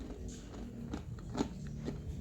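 Crisp crunching bites into a homemade fried ketapang seed snack, several sharp crackles spaced unevenly over quiet background, close and moderately loud.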